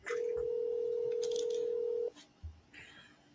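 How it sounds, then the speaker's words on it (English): A single long, steady telephone tone of about two seconds heard on an outgoing call, clear and close, followed by a brief quiet pause and faint line noise. "Tulsa, pick up the freaking phone."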